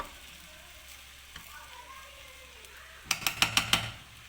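Egg fried rice with green chilies frying in a pan over medium heat: a steady sizzle, then a quick series of loud spatula scrapes and clanks as it is stirred near the end, with no talking.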